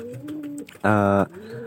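A pigeon gives a short, loud, close coo lasting under half a second, with quieter background sound before and after it.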